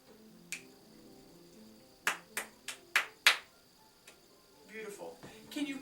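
A quick run of five close hand claps in a short rhythm during a piano lesson, preceded by one faint tap and followed by soft background murmur and shuffling.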